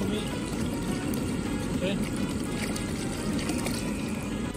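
Tap water pouring into a cooking pot for green rice with chicken, a steady splashing stream running throughout, close and fairly loud, with a person briefly talking over it.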